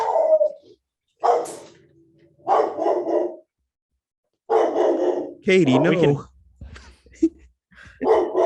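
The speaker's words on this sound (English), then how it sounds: "No, that was my dog." A dog barks a few times in short yelping bursts, close by and loud, mixed with a whimpering whine, while a person talks between and around the barks.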